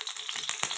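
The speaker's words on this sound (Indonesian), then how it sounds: "Kita tumis sampai harum ya." Shallots, crushed garlic and sliced ginger sizzle as they sauté in a wok, giving a steady, close hiss of frying with a few sharper crackles and pops.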